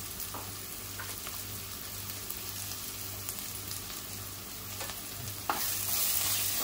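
Prawn masala being stirred in a pan with turmeric, homemade masala and salt: a steady sizzle under repeated scraping strokes, with a louder scrape near the end and no talking.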